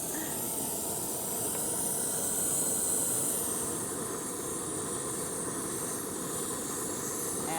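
A compact backpacking gas stove burns under a pot with its flame reaching up past the sides, a steady, close hiss that stays even throughout with no talking.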